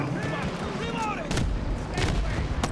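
Sniper gunfire in a first-person shooter video game, a few sharp cracks and rumbling booms over steady battlefield noise, with voice radio callouts and a player talking over it.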